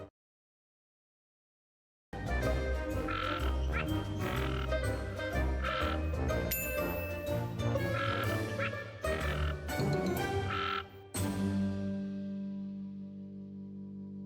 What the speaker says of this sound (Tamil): பாருங்க, அது ஒரு தவளை.